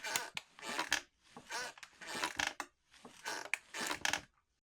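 A porch swing sways back and forth on a warm July day, making four rhythmic creaking squeaks, one per swing, with short quiet pauses between them, close and fairly quiet.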